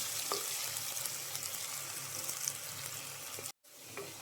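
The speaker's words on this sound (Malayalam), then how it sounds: "ഉള്ളി ഒന്ന് നന്നായിട്ട് വഴണ്ട് വരണം." Onions sautéing in a pan with salt for a fish curry, a steady close sizzle and crackle with faint stirring clicks, broken by a brief moment of silence near the end.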